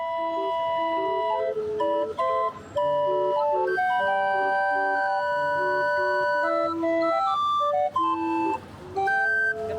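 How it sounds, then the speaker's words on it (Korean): An old barrel organ plays a steady, bright melody on a street in Mexico, with sustained reedy tones and brief pauses between phrases, clear and fairly loud with no voices. "시내를 걷다 보니 멀리서 오래된 풍금 소리가 난다."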